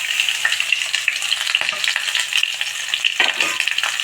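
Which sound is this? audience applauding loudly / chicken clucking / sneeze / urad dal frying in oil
urad dal frying in oil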